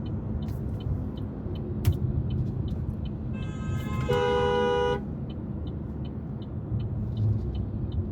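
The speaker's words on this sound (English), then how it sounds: "I honked at him because he tried to get in my way" A car horn sounds in one sustained honk over a low rumble of traffic, with a few faint ticking noises around it.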